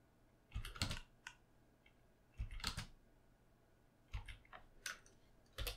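Computer keyboard keys pressed for shortcuts while working in Blender, four short bursts of quick clicking taps separated by pauses, close and fairly quiet, with no voices.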